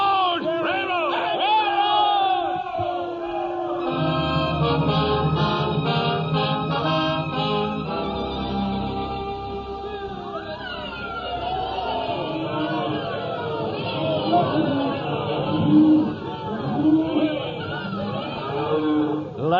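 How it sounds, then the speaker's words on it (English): A crowd of townspeople cheers and yells as a cattle-driving outfit rides into Abilene. Shouts and whoops rise and fall over a musical film score, with the noise swelling toward the end. "People cheering and yelling"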